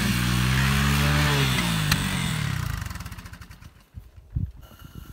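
A Honda three-wheeler engine drones steadily at mid pitch while being ridden on ice, then drops away and sputters into uneven low putters as it idles down.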